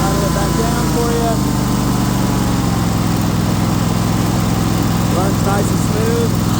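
A Husqvarna RZ5424 zero-turn riding lawn mower with a 54-inch deck idles steadily and smoothly nearby, a constant low engine drone with a faint voice talking over it.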